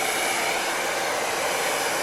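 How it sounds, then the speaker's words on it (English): A hair dryer blows loudly and steadily at close range, drying fresh paint on a vintage picnic basket, a constant whooshing roar. "I'm once again going to dry this thoroughly with the hairdryer"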